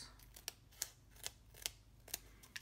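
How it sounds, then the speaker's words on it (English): Scissors snipping paper for a handmade card, six crisp, faint cuts in an even rhythm about every half second against a quiet room. "Using my yucky scissors to cut."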